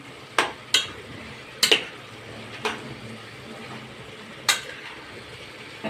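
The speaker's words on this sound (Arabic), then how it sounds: "هنقلب بقى كل ده في بعضه كده كويس جدا اهو" Fried zucchini, eggplant and peppers with tomatoes are stirred together in a pan, giving a handful of sharp utensil clinks and scrapes at irregular intervals over a faint, steady background.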